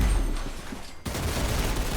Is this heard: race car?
no